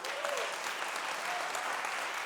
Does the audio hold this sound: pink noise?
no